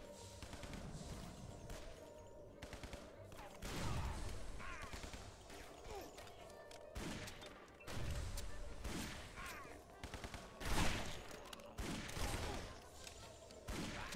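Rapid bursts of gunfire and explosions in the video game Guns, Gore and Cannoli, repeated loud volleys and rattling shots coming in waves over continuous game noise.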